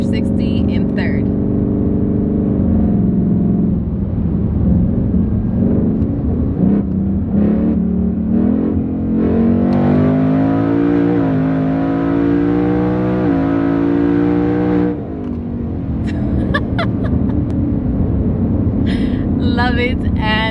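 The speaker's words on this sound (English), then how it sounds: "So let's do another 60 in third." A twin-turbo Ford Mustang GT pulls hard in third gear from inside the cabin, its engine note climbing through long, loud sweeps, with brief talk at the start and near the end.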